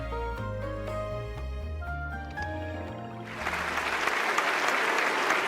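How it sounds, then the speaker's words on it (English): Tonal music fades out, then a crowd in an auditorium bursts into loud, sustained applause after a presentation, dense clapping filling the space. "I'm rewarded with thunderous applause."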